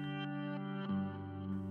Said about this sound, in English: The Simble pedal by Mad Professor is an overdrive pedal that is both organic and transparent in nature.